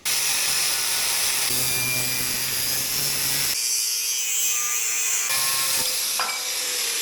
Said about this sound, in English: I'm confident with the grinder, and I can get a straight cut here on the ends of these, just square this up